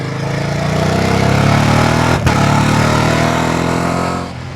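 A 2025 Ducati Panigale V2S with a twin underseat exhaust idles loudly and close, a rich steady rumble with a slight rise in pitch and one brief dip midway.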